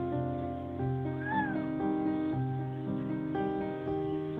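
A pet cat gives a single short meow midway, rising then falling, heard over a steady background of music-like sustained tones.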